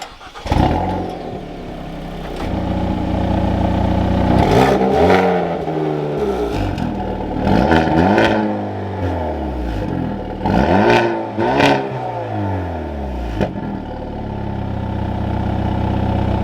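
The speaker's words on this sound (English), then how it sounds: "you gotta hear the sound of it. It's got an active exhaust as well." A 2022 Hyundai Veloster N 2-liter active exhaust revs repeatedly, rising and falling in sharp bursts over a steady idle, loud and close with crackles between revs.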